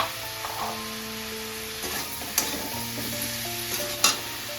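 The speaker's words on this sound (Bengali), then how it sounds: "ভালো করে আদা রসুনটাকে কষিয়ে নেব।" Ginger and garlic paste frying in a pan for a bottle gourd and prawn curry, a steady soft sizzle broken by a few scraping stirs and light clinks, close and alone.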